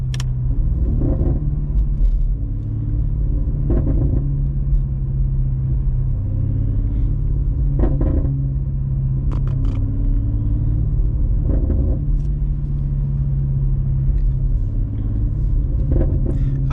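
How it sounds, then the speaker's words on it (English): Straight-piped BMW F90 M5 engine and exhaust drone steadily while driving in highway traffic, a loud continuous low rumble with periodic swells as the throttle changes, heard from inside the car. "this is exactly how the car sounds"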